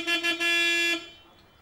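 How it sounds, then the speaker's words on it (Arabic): A car horn honking in a street scene: two quick toots, then a longer sustained blast that cuts off, loud and close with no talk. "مو سامع الزمور"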